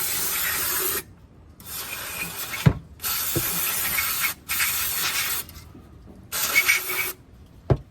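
Brake cleaner sprayed from an aerosol can to flush sludge out of a part, four loud hissing bursts of about a second each separated by short gaps, then a weaker fifth burst, with faint clanks between.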